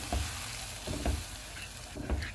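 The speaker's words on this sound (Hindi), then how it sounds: "अब इसमें हम दूध डाल देंगे" Milk poured into a pan of frying chicken masala: a steady loud sizzle with a few low stirring knocks, close up and with no voices.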